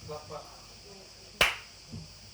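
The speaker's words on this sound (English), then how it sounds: "1, 2, 3. Clap from you." One sharp, loud clap rings out in a conference hall during a leadership academy session, a single snapping hit with a short decay, preceded by faint talking and followed by a soft voice.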